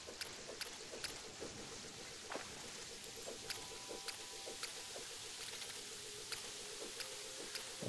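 Rain in the video game Terraria patters steadily as a faint, even hiss with light, scattered drop-like ticks repeating throughout.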